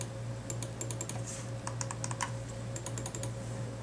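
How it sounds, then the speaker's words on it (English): A Razer computer mouse, an Abyssus or Orochi, gives a run of quick, faint, crisp button clicks in small bursts over a steady low hum. "There's a springing sound."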